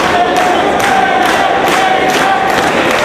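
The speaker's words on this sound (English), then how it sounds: "Crowd encouraging AJ Styles to fight back." A wrestling crowd at an ROH Homecoming event chants and cheers loudly and continuously in rhythmic bursts, urging AJ Styles to fight back.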